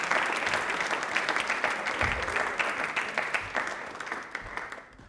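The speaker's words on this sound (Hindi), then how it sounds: "जोरदार तालियों से स्वागत करेंगे मिस्टर संदीप अग्रवाल जी का" Loud audience applause welcoming guest Mr. Sandeep Agarwal onto a Doordarshan Rajasthan quiz show, steady dense clapping that swells then tapers off toward the end.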